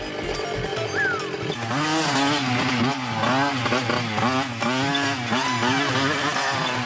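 A cartoon vehicle engine revs higher and higher as it speeds up, a loud buzzing whine with rising and falling pitch sweeps, mixed with background music throughout.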